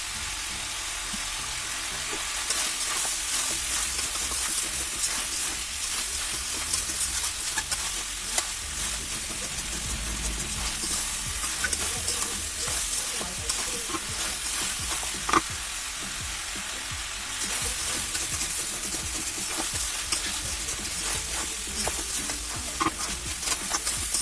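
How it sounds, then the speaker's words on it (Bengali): Beef head meat and large potatoes being stir-fried in a pan for a Bengali cow head curry: continuous loud sizzling and frying with scraping stirs and small clinks throughout, close up and with no voices. "আলু দিয়ে মাংসটা আমি এখন ভালোভাবে কষিয়ে নেব।"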